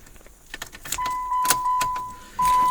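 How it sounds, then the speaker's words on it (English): A key jingles and clicks as it slides into the ignition of a 2007 PT Cruiser and turns to the run position, followed by a steady electronic chime and a soft hum of the car waking up. "We'll start by placing the key in the ignition and turning the ignition to the run position"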